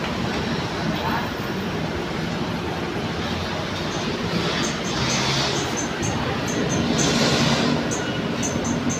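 An MRT metro train in the Philippines rumbles and rattles along steadily, with a rising screech of wheels toward the end.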